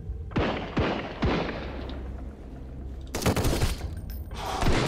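Grenades and gunfire in a Sunkenland battle on Eden Island, with several sharp close blasts early on, a rumbling decay, and then a dense volley of bursts. No one speaks.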